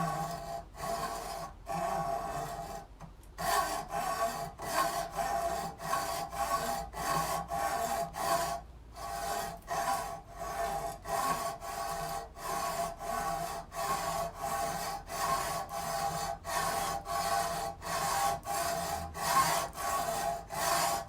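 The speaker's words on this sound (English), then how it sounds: "Utilizing the seam to help get a gouge going. Got a nice bite to it that I can dig into." Gouge being worked into a gutter seam in an interior roof: steady, close scraping and rasping strokes in a repeated rhythm, with brief pauses between some strokes and no talking.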